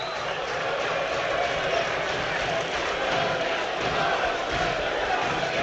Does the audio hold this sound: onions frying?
no